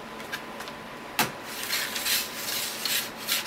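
Close, soft scraping as a computer mouse is dragged back and forth over a rough mousepad, irregular swishes with one sharper scrape near the start.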